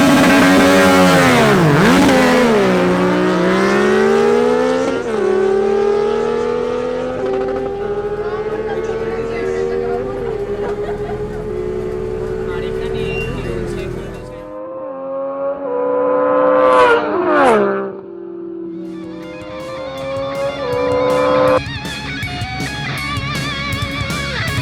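Suzuki GSX-R600 sport bikes at a motorcycle drag race howl loudly and close, engines climbing through gear after gear in long rising sweeps, then cutting out and revving again as the next run launches.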